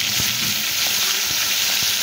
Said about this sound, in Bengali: তো মাছগুলো দিয়ে দিই, হালকা একটু ভাজা দেবো